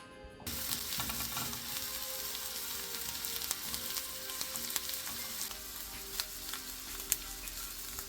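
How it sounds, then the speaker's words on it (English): Chopped onion and rosemary fry steadily in a couple of tablespoons of olive oil, a loud, continuous close-up sizzle with crackling pops that starts abruptly and runs without talk. "I've got a couple of tablespoons of olive oil with the chopped onion and the rosemary, and we're going to cook this until it's completely charred and lovely and brown."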